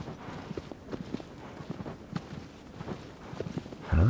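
Horse hooves clip-clop in Shadow of the Colossus, a soft irregular run of steps over a quiet outdoor game ambience, fairly faint and without talk.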